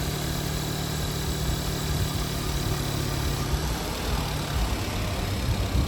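A 2016 VW Golf R engine idles just after a cold start, giving a steady, even hum with a faint mechanical buzz, heard close up with the bonnet open and no voices.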